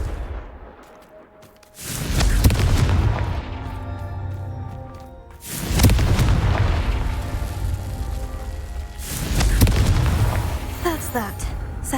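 Three heavy fiery blasts from the Confringo spell in Hogwarts Legacy, each a loud close boom with a crackling, rumbling tail, spaced a few seconds apart. Quieter game ambience fills the gaps between them.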